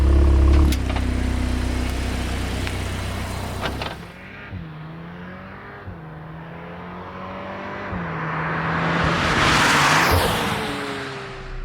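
A 2025 Audi S3 cruising through a local town in normal driving mode, engine humming low with gentle gear shifts and rising tire and road noise, a faint passing swell near the end.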